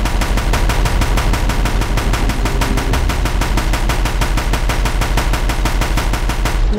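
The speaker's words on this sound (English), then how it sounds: "That thing took so much damage from my machine gun." Rapid machine-gun fire in the Horizon Zero Dawn video game, a loud, relentless stream of evenly spaced shots continuing without a break throughout.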